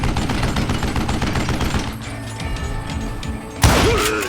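Rapid gunfire crackles in a dense burst in the Western shooter Call of Juarez: Gunslinger, then after a lull one sharp, loud shot rings out alone.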